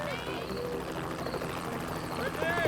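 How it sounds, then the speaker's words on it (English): Helicopter flying overhead during a search for a missing child in a park neighbourhood: a steady, fairly faint rotor drone with a whirring, wavering hum that runs throughout. "A helicopter joined overhead."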